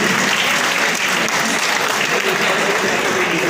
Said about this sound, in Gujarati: જોરદાર તાળીઓના ગણગણાટથી આપણે વધાવીશું.